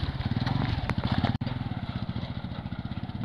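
A rented motorcycle's engine runs steadily up close with a fast, even rhythmic chug and a brief dropout partway through, and a voice speaks faintly over it.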